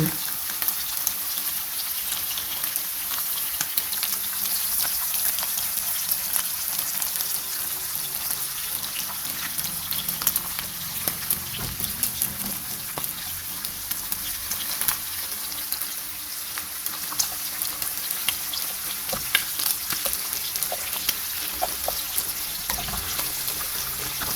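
Sun-dried beef hump frying in hot oil, three pieces in a small pan, a loud continuous hiss and crackle up close that holds steady throughout with no pauses.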